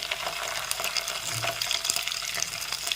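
Ginger-garlic paste hitting onions frying in oil in a pan, giving a steady bright sizzle with stirring scrapes throughout, close and continuous for about three seconds.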